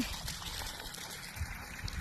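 Water trickles from a roadside borewell on a hot day, a close, continuous splashing flow with a steady texture and no speech.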